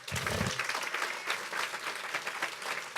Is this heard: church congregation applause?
yes